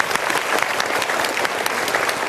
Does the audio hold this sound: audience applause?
yes